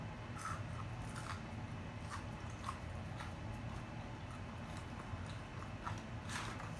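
Crunchy Taco Bell tacos being eaten close to the mic give quiet, repeated crisp bites and crunches over a low background rumble, with no talking.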